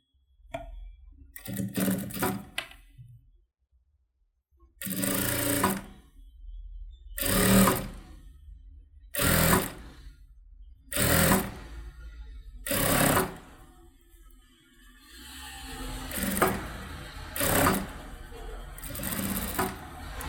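A sewing machine stitches a saree blouse with a Pa-shaped neck design, running in repeated short whirring bursts separated by brief pauses, close and loud.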